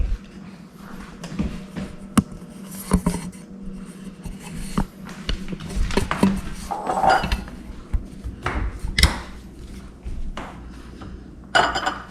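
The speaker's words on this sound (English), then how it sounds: "then you are going to crack your egg" Eggs are cracked for a Japanese cheesecake in a kitchen: sharp taps against a bowl come among clinks of dishes and utensils, close and moderately loud, with no voices.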